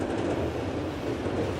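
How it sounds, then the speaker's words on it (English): A northbound Norfolk Southern intermodal freight train on the Columbus District in Lockbourne, Ohio rumbles past close by in a steady, loud, broadband roar with no voices. "this time a northbound Norfolk Southern Intermodal train on the Columbus District"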